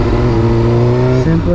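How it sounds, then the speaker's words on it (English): Motorcycle engine revving in steady bursts while the rider downshifts, a loud close drone under someone talking through it. "Shift up, down, gas, down, gas,"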